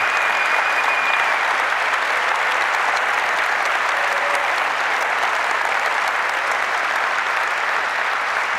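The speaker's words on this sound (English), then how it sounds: "So can we have a massive, massive round of applause for the amazing Kelsey Hightower?" Large KubeCon keynote crowd gives sustained, loud applause for Kelsey Hightower during closing remarks, a dense, unbroken wash of clapping lasting over eight seconds.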